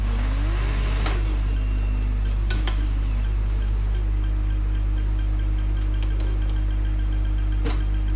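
Formula 1 car burnouts in the F1 22 racing game: a steady engine drone with a brief rev swell early on and faint clinks, with no talking.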